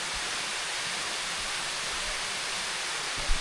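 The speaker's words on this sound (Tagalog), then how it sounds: "ito yung bumabagsak na tubig dito" Waterfall in a forest, water pouring down in a steady, loud broadband rush that holds even throughout, with a brief low thump near the end.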